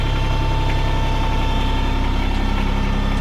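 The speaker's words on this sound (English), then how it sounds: "then I let her down to idle" An LS tractor engine idles steadily, a continuous low rumbling drone with an even throb and faint higher whine, close and unbroken, no talking.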